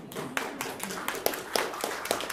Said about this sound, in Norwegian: fortjener applaus!